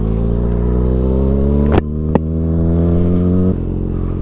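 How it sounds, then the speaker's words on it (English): A Kawasaki ZX6R motorcycle fitted with an M4 GP19 exhaust, under way: a loud, steady, deep engine drone that holds throughout, with a couple of brief sharp blips near the middle, and no talking. "The M4 GP19 exhaust, pretty cheap and sounds really good. Has a nice deep growl to it"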